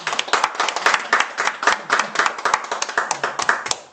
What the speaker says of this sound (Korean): 우리 정구만 성도님에게 감사의 박수 한번 드리겠습니다